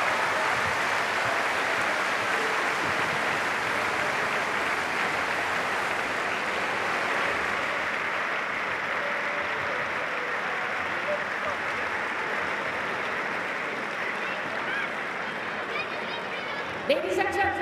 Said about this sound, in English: another round of applause for our semi-finalists